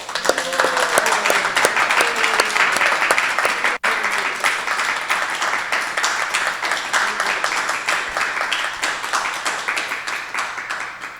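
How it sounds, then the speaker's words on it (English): A congregation applauds during a spiritual discourse, many hands clapping loudly and steadily for about eleven seconds. There is one brief dropout partway through, and then the clapping gradually thins and softens toward the end. "I think he deserved a big round of applause."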